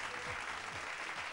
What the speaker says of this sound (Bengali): তোমাদের 5 জনের জন্য জোরে হাততালি।